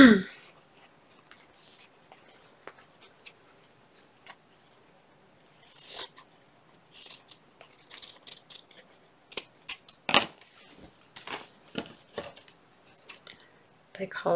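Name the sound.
cutting out a paper shape with scissors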